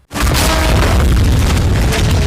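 A film explosion destroys a hideout: a sudden loud boom erupts and then rumbles on as a dense, sustained blast to the end.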